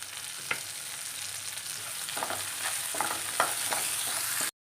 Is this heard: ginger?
yes